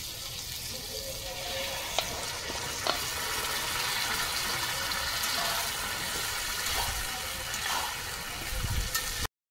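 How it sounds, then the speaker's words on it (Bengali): Hot water poured into a pot of egg chicken tadka with tadka masala and boiled matar and moong dal, a steady broadband rush and sizzle running nearly unbroken for about nine seconds with a few faint clinks. "দেখুন এখানে গরম জল আমি খানিকটা দিয়ে দিচ্ছি, খুব বেশি জল দেবো না কিন্তু।"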